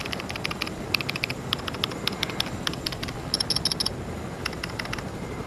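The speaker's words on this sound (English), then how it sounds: "Yeah, that's how my keyboard sounds, so sorry if you guys can hear it." Computer keyboard typing during a Fortnite session, quick irregular clicks in short bursts, fairly faint and close against a steady background hiss, no talk.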